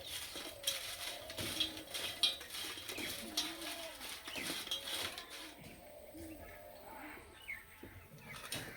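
Crispy fried raw banana fritters tossed with spices, giving light clattering and scraping of a utensil against the pan in irregular bursts, with faint bird cooing in the background.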